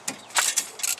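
A wrench works loose a 14 mm caliper bracket bolt on a 2008 Nissan Altima, giving a few short close metallic ratcheting clicks in quick bursts with no talk.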